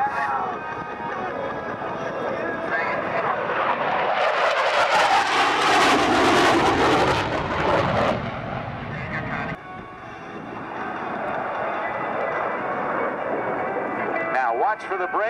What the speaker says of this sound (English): That means the afterburners are on.